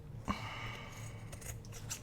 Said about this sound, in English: Yeah, I've got a little dull place in these scissors